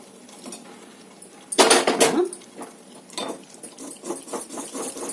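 Semiya payasam with dry fruits stirred in a pan with a metal spoon. A loud clatter of metal on metal comes first, then steady scraping and knocking against the pan, close by and with no voices.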